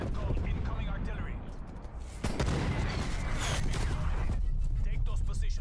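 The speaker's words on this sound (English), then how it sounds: "Incoming artillery." Incoming artillery in Call of Duty Black Ops Cold War lands as rolling booms and bursts of gunfire under a busy battlefield din, with a sharp crack midway and voices speaking through the mix.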